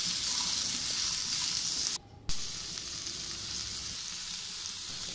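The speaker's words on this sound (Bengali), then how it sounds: "যতক্ষণ না কাঁচা পেঁয়াজের রং ব্রাউন কালার আসছে ততক্ষণ কাঁচা পেঁয়াজটা আমি ভাজতে থাকবো" Raw onions fry in oil over low heat, giving a steady close sizzle that breaks off briefly near the two-second mark and then resumes, with no voices.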